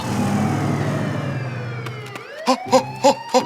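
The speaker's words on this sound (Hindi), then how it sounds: "ये तो पुलिस का सायरन है।" A police siren wails down in pitch, then gives four short, loud, evenly spaced whooping blasts close by.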